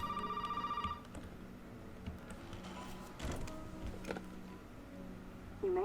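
Telephone ringing in the video game Resident Evil 7: a ring tone at the start, then faint ticking and clattering game ambience, with another ring beginning right at the end.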